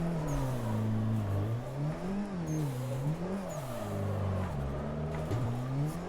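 A car engine revs continuously through a drift, pitch rising and falling in waves with a sharp surge from a clutch kick near the end, close and loud throughout, no talk.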